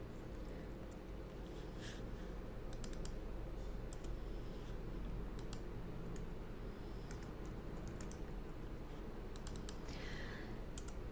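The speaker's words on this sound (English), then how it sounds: "So let me start typing" Fingers typing on a computer keyboard, irregular bursts of soft clicking keystrokes, faint and quiet over a steady low background hum.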